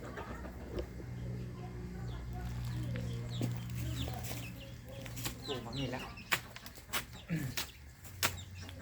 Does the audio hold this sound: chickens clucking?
yes